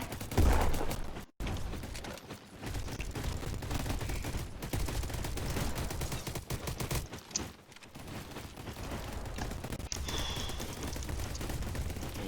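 Gunfire rattles in bursts through a video game match, dense overlapping shots and sustained automatic fire filling most of the stretch under busy game noise, with a brief dropout near the start.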